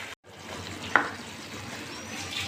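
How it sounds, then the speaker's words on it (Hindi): Tikka-flavoured chicken pieces frying in a pan with sausages and chopped green chillies, a steady soft sizzle throughout with one brief sharp clatter near the start of the cooking. "अब बस ये 2 मिनट हम ये चिकन के साथ फ्राई कर लेंगे।"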